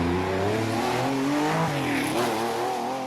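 Porsche rally car engine on a snowy stage, loud and close throughout, its throaty note rising and falling through gear changes with continuous revving and no voices over it.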